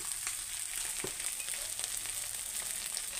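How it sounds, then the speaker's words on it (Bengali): Ground spices with salt, chilli, turmeric and coriander frying in a pan, a soft steady sizzle with a few scraping stirs and light taps, fairly quiet and close. "এটাকে ভালো করে নেড়ে চেড়ে ভেজে নেব।"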